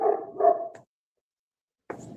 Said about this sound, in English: He's one of your resident dogs.